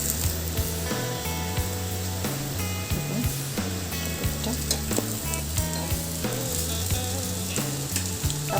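Moong dal dosa sizzles steadily in a frying pan, a continuous close crackle of hot oil with occasional light scraping, and no talking.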